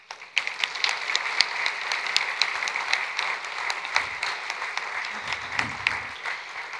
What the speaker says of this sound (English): I would like to ask for a round of applause.